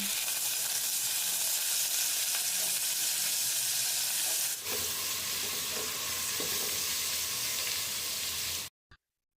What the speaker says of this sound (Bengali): পেঁয়াজ কুচিটা ব্রাউনিশ করে ভেজে নেব।